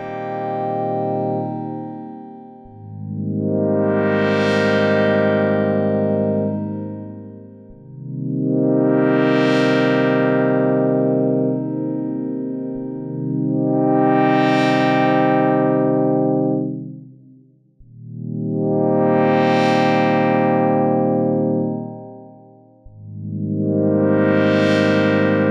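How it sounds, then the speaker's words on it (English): An ASM Hydrasynth synthesizer plays five sustained chords through its reverb effect. Each chord swells and then decays into a long washy tail, with the notes repeating evenly and loudly and no voices heard. "I would love to hear a slight improvement to the Hydrasynth reverb"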